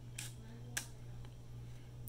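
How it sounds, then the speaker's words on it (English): The shutter of a Kodak Vigilant 4.5 folding camera being cocked, two quiet close mechanical clicks about half a second apart, followed by fainter ticks over a low steady hum, with no talking. "Cock the shutter again."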